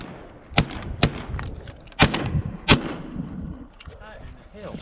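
Shotgun fire during an outdoor goose hunt: four loud, sharp blasts spaced irregularly over a few seconds, with quieter rustling and background noise between them.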